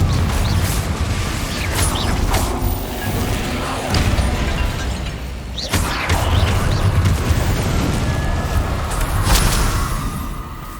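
Repeated Confringo blasting spell explosions in the Hogwarts Legacy video game, loud booms and crashes bursting one after another over a dense, continuous rumble of combat noise.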